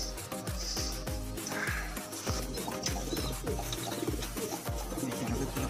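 A young blue bar pigeon gives repeated soft, low coos in a loose rhythm, close by and fairly quiet, with faint rustling and small chirps between them.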